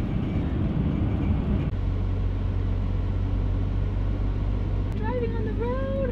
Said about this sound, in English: Driving on the road. Well, we're on the road to Moraine Lake.